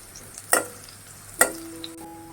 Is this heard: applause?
no